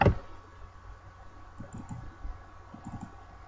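Computer mouse clicking: one sharp click at the start, then small clusters of soft, close clicks in a quiet room, with no voices.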